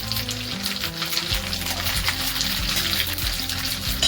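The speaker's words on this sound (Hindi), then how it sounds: "अच्छे से भून लेंगे जीरे को" Whole cumin seeds and two bay leaves fry in mustard oil, making a dense, steady crackling sizzle with faint scraping stirs throughout.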